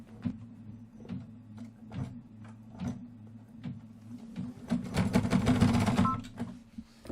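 An embroidery sewing machine stitches out a flagpole with a steady mechanical hum and repeated rhythmic needle thumps, close by, building to a denser, louder run of stitching near the end.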